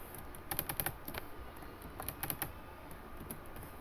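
Quick bursts of keystrokes on a computer keyboard as a print command is typed, clustered clicks with short pauses between groups, close and clear with no talking.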